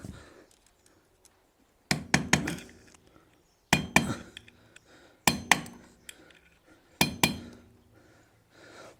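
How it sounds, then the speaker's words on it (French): A hammer strikes car clutch parts in a workshop in four separated bursts of sharp metallic blows, each a quick cluster of two or three hits, close and fairly loud with quiet gaps between. "On pète ça au marteau."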